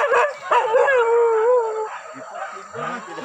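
Hunting dogs howl and yip during a wild pig hunt in rural Solok, West Sumatra, several close, loud, wavering howls overlapping one another, then fading into shorter whines.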